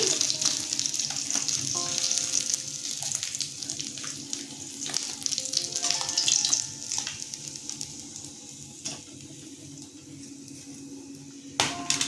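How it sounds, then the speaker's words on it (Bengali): Pieces of vetki fish sizzle and crackle in hot oil in a home kitchen, a steady close frying hiss with occasional sharper pops and clinks, no speech. "তেলটা গরম হয়ে গেছে এবার আমি এক একটা করে মাছ একটু ভেজে নেব"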